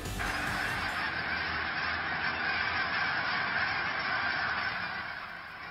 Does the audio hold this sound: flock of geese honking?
yes